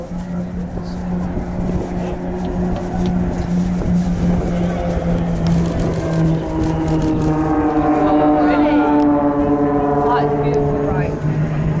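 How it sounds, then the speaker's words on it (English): Propeller aircraft of an aerobatic display team fly a formation Spitfire roll at a seaside air show, and their engines drone steadily with long pitch-shifting tones. A commentator talks over the sound on the public address. "as they pull up into the vertical, each aircraft is going to wait for the one in front to hit 45 degrees before beginning their roll beneath"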